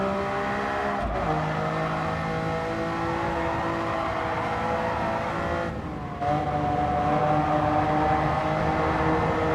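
A race car engine in Gran Turismo 7 howls through a tunnel at speed. Its loud, sustained whine rises and falls with gear changes and briefly dips and drops in pitch before surging back, with no one talking.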